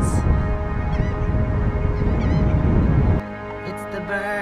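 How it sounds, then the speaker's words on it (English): Seagulls on a beach at Gulfport cry out in a busy flock, with repeated honking calls over wind and surf noise, close and loud, before the sound drops to quieter scattered calls near the end. "It's a lot of seagulls."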